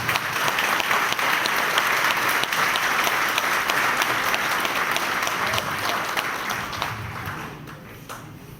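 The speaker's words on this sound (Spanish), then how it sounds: "Yo quiero que le dé un fuerte aplauso a los auspiciadores de este evento." A business-event audience at PROSPECTA 2012 gives the event sponsors a loud, sustained round of applause: a dense, even roar of many hands clapping that tapers off slightly at the end.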